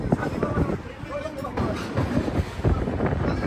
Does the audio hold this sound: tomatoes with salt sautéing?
no